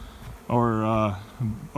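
Honeybees buzz close by around a pile of stacked beekeeping boxes and comb equipment, a loud, wavering drone rising and falling as individual bees pass near, then shorter buzzes.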